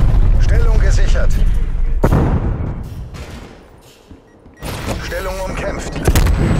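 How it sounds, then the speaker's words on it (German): Artillery bombardment in Call of Duty Black Ops Cold War, with loud booming blasts and rumbling impacts that rise and fall, a lull in the middle, then heavy explosions again, under German voice callouts. "Feindliche Artillerie. Artilleriebeschuss."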